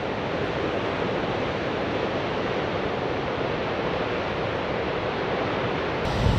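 Waves and wind on Johanna Beach, an empty stretch of shore, form a loud, steady wash of surf and gusting air with no breaks or voices.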